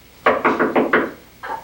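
Six sharp knocks on a wooden door indoors: five come in a quick, even run, then a short pause before one last knock. Each rap is close and clear.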